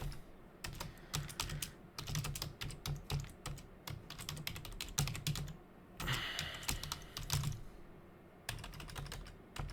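Quick, steady typing on a computer keyboard during a live trading session, a dense stream of crisp key clicks in bursts with brief pauses, close and fairly quiet, with no talking.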